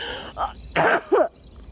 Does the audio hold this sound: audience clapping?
no